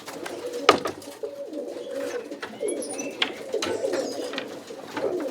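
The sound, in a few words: roller pigeons cooing in breeding box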